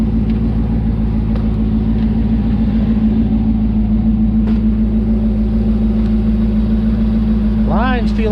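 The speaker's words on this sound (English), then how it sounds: "You can see our AC compressor is now spinning away just as it should." The AC compressor spins on the running Hemi 1500 V8 engine of a 2009 truck, a loud, steady mechanical hum and rumble at close range with a brief whine near the end.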